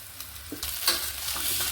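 About half a kilo of boiled, finely chopped potatoes tipped into a frying pan with chili and salt and stirred for a fasting dish, giving a brief, soft scraping stir over a faint sizzle.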